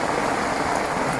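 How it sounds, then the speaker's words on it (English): Heavy rain pours steadily at a carp fishing lake in France, a dense, even hiss of drops hitting surfaces close by with no pauses and no voices. "Heavy rain as well."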